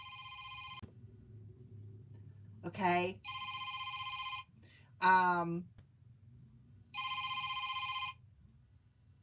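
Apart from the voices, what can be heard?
phone ringing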